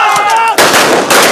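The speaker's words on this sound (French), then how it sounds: "Coup de feu nourri" Heavy bursts of gunfire during a commando training exercise countering an armed attack on a post, loud and close, with a dense crackling volley cutting in sharply after a brief lull.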